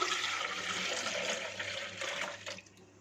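Milk, 300 ml, is poured into a blender jug already holding cheese and vanilla essence for an ice cream shake, a continuous splashing liquid stream that tapers off and stops near the end.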